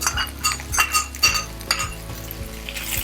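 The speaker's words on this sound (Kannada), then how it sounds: "ಈಗ ಇಲ್ಲಿ ತೊಗರಿ ಬೇಳೆ ಬೆಂದಿದೆ, ಇದಕ್ಕೆ ಮೆಂತ್ಯ ಸೊಪ್ಪನ್ನು ಸೇರಿಸ್ತೀನಿ." Fenugreek leaves go into cooked toor dal in a pan, with a light sizzle under repeated clinks and scrapes of a metal spoon against the cookware in an uneven rhythm, close by and without talk.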